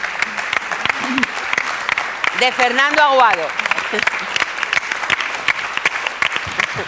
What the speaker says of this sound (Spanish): este aplauso ya es el final